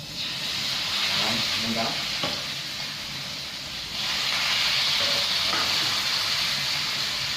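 Pork loin searing in hot oil in a pan, a steady loud sizzle and hiss running throughout, rising briefly in intensity partway through, with a voice speaking over it.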